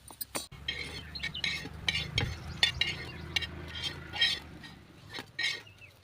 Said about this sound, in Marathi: तर अशाच प्रकारे आपण दुसरी कापं देखील फ्राय करून घेऊया